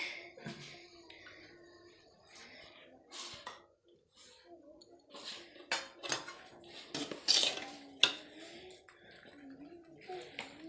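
A biryani pot is handled and set on the stove for dum, with metallic clanks, scrapes and knocks of cookware and utensils in uneven bursts, and voices talking in between.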